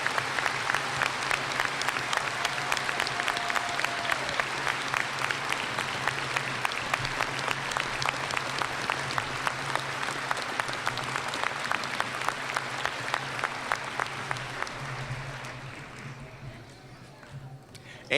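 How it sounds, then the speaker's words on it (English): Commencement ceremony audience gives a long, steady round of applause, with dense clapping carrying on evenly in a large hall before fading toward the end; a voice is briefly audible beneath the clapping. "Will the members of the audience please join me in another round of applause to recognize the special graduate"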